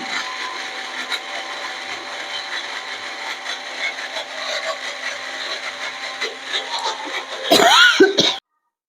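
An electric mixer grinder whirs steadily as it grinds masala paste for a soya biryani marinade, building louder toward the end with a burst of rattling before cutting off abruptly.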